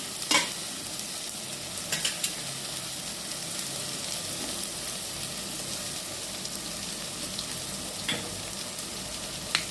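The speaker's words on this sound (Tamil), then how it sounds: "ரெண்டு கருவேப்பிலை கொட்டு போட்டுட்டு அதையும் கொஞ்சம் வதக்கி விட்டுக்குவோம்" Steady sizzling of curry leaves sautéing in hot oil, with occasional stirring scrapes and light pops, close and continuous throughout.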